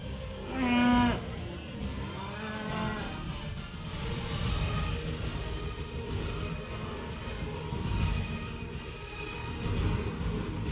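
Cattle mooing in a farm pen as calves are being moved back to their mothers: a loud, clear moo near the start, then further lowing and a steady mix of herd noise and movement throughout.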